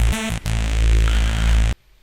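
Lead patch on the Tribute synth Rack Extension, a loud, dense, buzzing synth tone with a brief stutter near the start, sustaining steadily before cutting off abruptly, leaving near silence.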